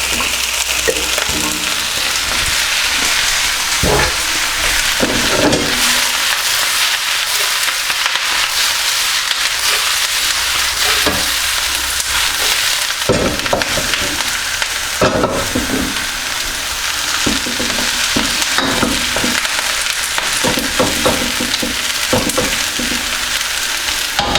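Loud, steady sizzling as chips hit a hot wok with vegetables, continuous frying hiss punctuated by clanks and scrapes of stirring, with no talking over it.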